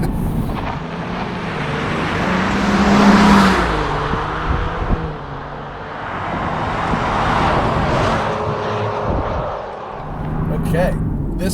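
A Land Rover Defender 110 with air suspension is driven hard on tarmac, its engine note swelling and falling as it accelerates, accompanied by steady road and wind roar from inside the cabin, with someone talking over it.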